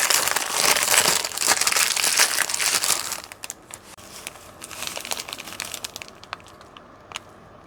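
Baking paper crinkles and crumples loudly up close while homemade chicken shawarma is wrapped, dense rustling for about three seconds, then fading to sparse, softer crackles.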